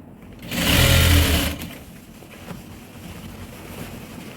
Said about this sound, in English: we are going to sew it round to where we started from